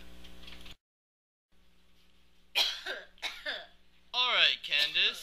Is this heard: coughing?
yes